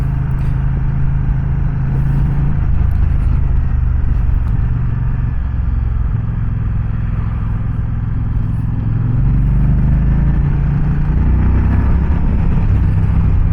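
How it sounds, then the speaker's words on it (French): Moto Guzzi Stelvio motorcycle engine heard while riding, a constant low, loud drone with wind rush and slight shifts in pitch as the revs change. "Le moteur, il devient explosif à partir de 3000 tours quand même."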